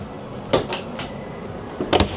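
A small door in a train washroom is handled and shut, giving two brief knocks about a second and a half apart, close by and fairly loud in a quiet compartment.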